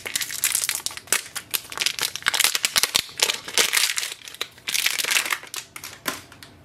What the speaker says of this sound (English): So take the ink out of this packaging.